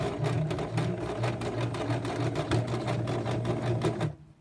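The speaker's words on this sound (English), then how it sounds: "when you get to the end, you're going to reverse again" A sewing machine stitches a pocket onto a tote bag, running in a steady, fast mechanical whir close by with a brief reverse, then stopping abruptly near the end; no talking.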